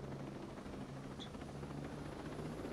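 Helicopter in the video game Ghost Recon Breakpoint, a steady low rotor thrum and engine whine droning continuously at moderate distance, alone without talk.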